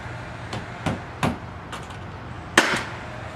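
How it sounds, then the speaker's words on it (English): Hammer blows driving a couple of nails to tack a pre-hung steel exterior door frame in place: four or five sharp, separate knocks at uneven spacing, fairly close and moderately loud, with no talking. "A couple nails in it just to hold it in place."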